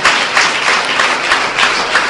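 A church congregation claps hands together in a loud, dense, rhythmic burst of applause-like clapping, steady pulses roughly every third of a second, with no talking.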